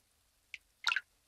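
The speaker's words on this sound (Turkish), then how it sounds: "Yoksa evinizin içinde yağmur mu yağıyor?" Water drips indoors from a leaking ceiling during rain: two distinct drops a moment apart, the first a small tick and the second a louder splashy plop, close by in a quiet room.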